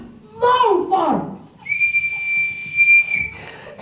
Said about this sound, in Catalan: va agafar el seu xiulet i va xiular molt fort